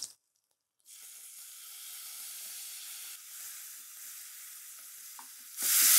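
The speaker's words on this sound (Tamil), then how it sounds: "இப்போ இந்த பூண்டு போட்ட பிறகு இதோட தக்காளியும் சேர்த்துலாம்." Garlic and tomato frying together in a pan, an abrupt onset after a brief silence followed by a steady soft hiss and sizzle that holds evenly, with a louder burst near the end.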